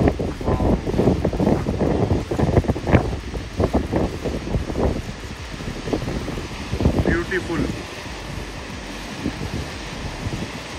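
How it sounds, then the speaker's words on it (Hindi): Fast water rushes from Karcham Dam in Kinnaur, Himachal Pradesh, a loud continuous roar with gusty wind buffeting the microphone and someone talking over it. "इस पानी का फ्लो इतना तेज है कि कई मीटर आगे ये पानी फेंक रहा है"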